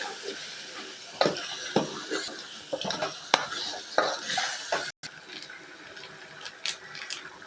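Biryani ingredients being stirred and sautéed in a metal pan, with a spoon scraping and clinking against the pot in irregular strokes, close and fairly loud, over a steady background hiss.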